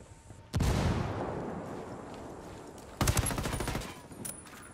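Explosions in the tactical shooter Ghost Recon Wildlands: a loud boom bursts at about half a second and rumbles away, then a second blast at three seconds comes with a brief flurry of gunfire.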